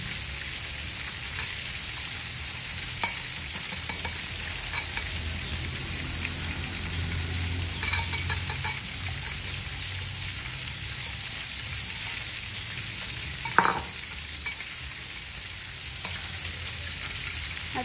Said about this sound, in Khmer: ហើយតែយើងយកវាទៅឆា